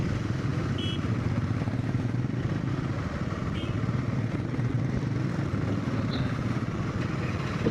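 A motorcycle engine drones steadily and up close while riding on the road near Mahad during an Ashtavinayak pilgrimage trip, with a continuous rumbling hum and faint clatter.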